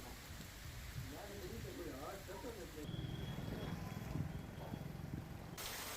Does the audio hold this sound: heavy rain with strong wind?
yes